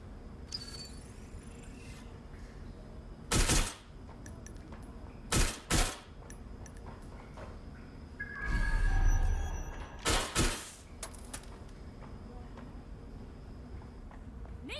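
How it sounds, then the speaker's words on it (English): Gunfire in the video game Watch Dogs Legion comes in several sharp, loud bursts spread over a quiet background, with a louder rumbling passage in between. "They're shooting at us!"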